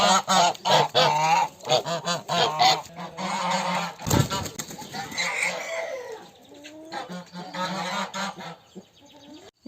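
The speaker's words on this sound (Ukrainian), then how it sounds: "Гуси мене переслідують. Це вже в них пора їсти." Several geese honk loudly and repeatedly up close, overlapping calls with some clucking mixed in.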